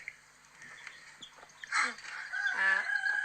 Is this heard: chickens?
yes